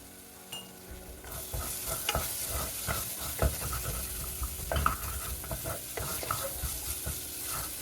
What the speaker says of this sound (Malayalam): ഇഞ്ചി വെളുത്തുള്ളി പച്ചമുളക് അതിൻ്റെയൊക്കെ ആ പച്ച മണം ഒന്ന് മാറി കഴിയുമ്പോൾ